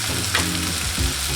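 Close, steady sizzling of frying in a pan for Kerala style chicken curry, with stirring scrapes over the continuous hiss.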